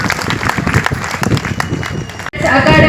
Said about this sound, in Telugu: దానికి కూడా ఒకసారి గట్టిగా చప్పట్లు కొడదాం